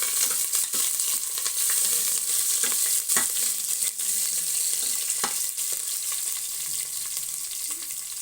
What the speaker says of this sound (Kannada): ಹಾಗೆ ಸ್ವಲ್ಪ ಕರಿಬೇವು ಎರಡನ್ನು ಮಿಕ್ಸ್ ಮಾಡೋಣ